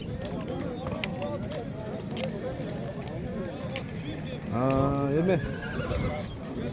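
Horses at the Nookat horse market in Kyrgyzstan whinny amid a busy crowd of talking voices, with one loud, close neigh rising midway over a steady background of hooves and chatter.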